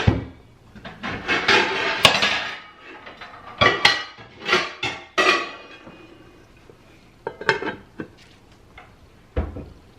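Metal cookware clatters and clanks in a home kitchen as a lid goes onto a pot holding shrimp and grits, several sharp knocks and rattles close by, with quieter scrapes in between.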